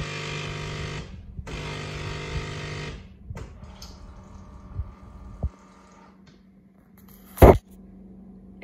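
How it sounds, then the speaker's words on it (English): A kitchen coffee machine runs with a loud steady grinding hum in two bursts, then quieter whirring, clicks and a sharp hiss near the end. "It was the coffee machine."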